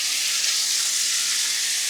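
A salmon fillet fries skin side down in a lightly oiled pan, giving a steady, close, bright sizzle and hiss that carries on evenly without pauses or talk.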